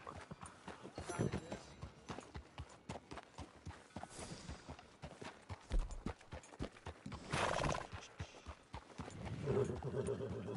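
Horses in Red Dead Online clip-clop at a slow walk with a couple of neighs, their hooves thudding in a steady uneven rhythm among other game sounds, close and moderately loud.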